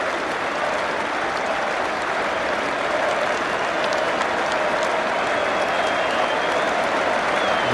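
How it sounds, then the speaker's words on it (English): A large crowd at a Lord's cricket Test between England and Australia applauds steadily, dense clapping rolling on without pause at an even, loud level for several seconds, with faint speech beneath. "He should take all the applause."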